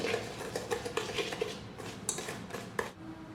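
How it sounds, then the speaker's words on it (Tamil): Sunflower oil is stirred into brownie batter in a bowl, with repeated light clinks and scrapes of a utensil against the bowl in a quick, uneven rhythm, close but fairly quiet. "இப்போ இந்த ஆயில் ஊற்றிக்கலாம் சன்ஃப்ளவர் ஆயில் தான் சேர்த்துருக்கேன் இதையும் நல்லா மிக்ஸ் பண்ணிக்கோங்க"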